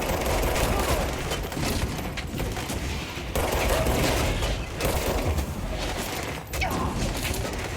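Dense, rapid gunfire from a firefight in the video game Control rattles almost continuously at close range, with brief dips and a voice faintly underneath.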